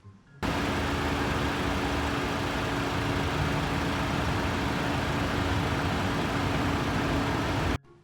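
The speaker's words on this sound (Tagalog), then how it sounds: "Check muna natin yung engine sound." Ford Everest Titanium engine running at a steady low rumble, constant and moderately loud from start to finish, with no voices.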